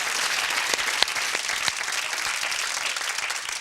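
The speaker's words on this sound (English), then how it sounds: "Give them a big round of applause." A studio audience on a 1997 game show gives a sustained round of applause, dense and even with a few sharper individual claps standing out, loud and close throughout.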